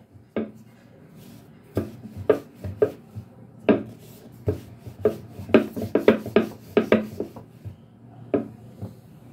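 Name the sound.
rolling out thin dough with a rolling pin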